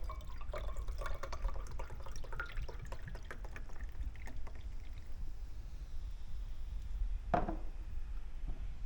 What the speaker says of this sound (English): You pour some carbonated drink into it